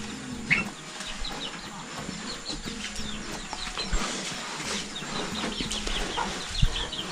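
Chickens cluck and cackle around a rural Bru village in Laos, a busy layer of soft clucks and calls with a brief wing flutter, moderately near amid outdoor ambience.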